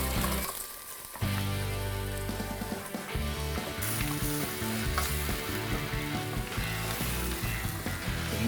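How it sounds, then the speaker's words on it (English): Onions frying with browned venison in a pan for goulash, a loud steady sizzle with scraping stirs throughout, briefly quieter near the start before the onions hit the hot fat. "I'm now going to add the onions and soften those."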